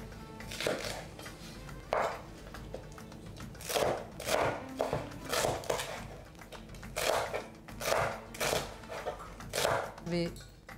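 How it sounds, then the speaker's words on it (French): A knife finely chops onions on a board in rhythmic bursts of quick, close cuts, with short pauses between runs. "Je vais hacher mes oignons."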